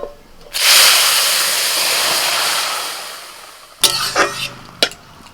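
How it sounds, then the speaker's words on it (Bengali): Boiled bottle gourd tipped into hot oil tempered with bay leaf, dried chilli and radhuni, giving a loud sudden sizzle that hisses for about three seconds, then fades into clattering stirring sounds. "এবার আমি সিদ্ধ করা লাউ ঢেলে দিচ্ছি"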